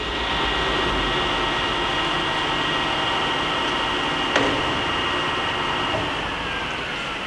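A Kingston gap bed engine lathe runs with the power feed engaged, giving a steady mechanical drone and whine with a faint click partway through, continuous and even throughout.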